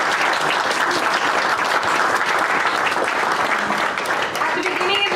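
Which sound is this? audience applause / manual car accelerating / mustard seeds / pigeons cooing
audience applause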